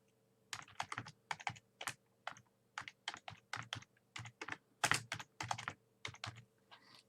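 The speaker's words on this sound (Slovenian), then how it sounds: "Jaz lahko vzamem tipkovnico, napišem" Keys clatter on a computer keyboard in quick bursts of typing, with short pauses between words, close and crisp in a quiet room.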